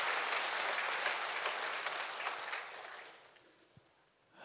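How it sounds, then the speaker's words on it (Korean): A church congregation applauds its choir, a dense broad wash of clapping that fills the room and then gradually thins and fades away toward the end. "우리 성가대에서 한번 뜨거운 박수 보내주시기 바랍니다."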